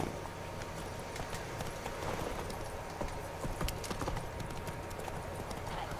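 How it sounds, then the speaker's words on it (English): Horse hooves clip-clop at a steady walking rhythm in the video game The Witcher 3: Wild Hunt, faint and a little distant, over a soft outdoor background. "Seriously, horse. You can't even climb over that brick wall."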